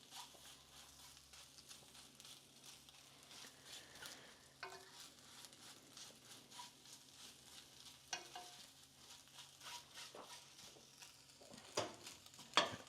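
Eggs frying in butter in a pan give off a soft, steady sizzle with occasional scrapes and light clinks of a utensil stirring, fairly quiet and with no talking.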